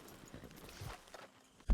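Horse hooves walk at an unhurried pace in Red Dead Redemption 2, a soft, uneven clip-clop that stays fairly quiet, with one heavier thud near the end.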